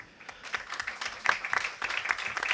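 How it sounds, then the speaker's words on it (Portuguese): Applause from an audience at a state environmental commission session, a short, fairly faint burst of scattered clapping with uneven, individual hand claps audible. "senhor Nelson Rocha, uma salva de palmas que ele merece."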